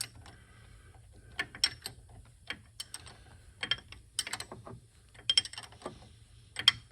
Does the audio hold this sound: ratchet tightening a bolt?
yes